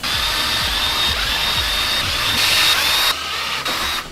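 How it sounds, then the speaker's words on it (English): A power drill whirs in repeated short bursts as it bores holes through a plastic bucket, close and loud, with brief pauses between holes. "now we'll go ahead and drill those holes out."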